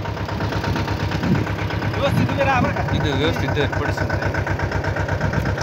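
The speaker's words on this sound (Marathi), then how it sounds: "आता ट्रॅक्टर चालू झालेला" A tractor engine idles steadily close by on a potato-planting farm, a rhythmic diesel chug throughout, while a person speaks briefly over it.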